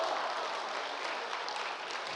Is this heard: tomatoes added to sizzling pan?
no